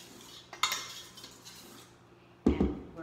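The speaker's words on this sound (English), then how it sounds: "I'll just take my whisk and I'll go around the bowl in case there's any flour around the edges" A metal whisk clinks and scrapes around a bowl of carrot cake batter, with two sharp knocks against the bowl's rim and softer scraping between them, close by.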